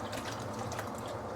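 Watery radish soup is poured into a pot of vegetable curry, a soft, continuous liquid splash and trickle, close and fairly quiet, with no talk.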